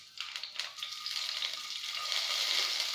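Finely chopped green chillies drop into hot oil for veg Manchurian, a few crackling pops at first building into a loud, steady, close frying hiss that grows stronger over the seconds.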